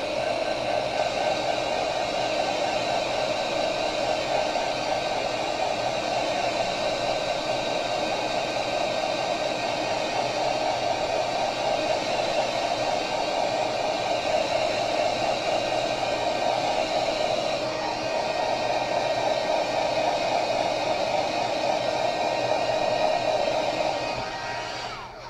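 A hair dryer blows continuously for about 25 seconds, warming ombre blending paste, a steady loud whooshing hum heard close up without speech.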